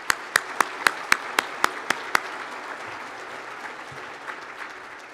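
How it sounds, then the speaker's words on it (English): Applause for sponsors at a State of the City luncheon in Portsmouth, Virginia: a few sharp, evenly spaced claps near the microphone ring out first, over and then alongside a steady, fainter round of audience clapping. "Let's give all of our sponsors a big round of applause"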